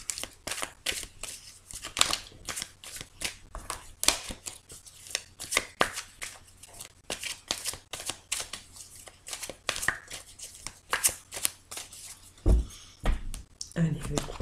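Tarot cards are shuffled and cut by hand, giving a quick run of crisp, close flicks and slaps in a busy, uneven rhythm, with a low voice murmuring faintly underneath.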